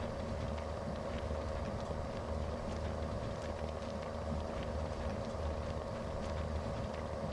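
A truck engine held at full throttle while churning through deep mud in Spintires, a steady dense roar with rumbling low end and grinding texture throughout, no letup and no voices.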